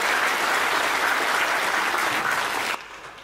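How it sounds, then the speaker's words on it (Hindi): An audience at a Hindi comic poetry gathering gives sustained, even applause, many hands clapping at steady volume before it cuts off abruptly near the end into quieter room sound. "एक बार पूरा सदन मुझे ताली बजा के आशीर्वाद दे।"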